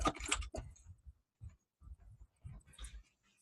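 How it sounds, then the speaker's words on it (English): Typing on a computer keyboard, close, quiet bursts of clicking keystrokes in short irregular runs separated by brief pauses. "let me type that in here real quick"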